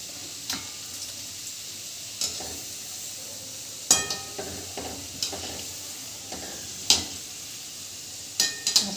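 Kachori frying in hot oil over a medium flame gives a steady soft sizzle, with scattered clinks and scrapes of a utensil stirring in the pan.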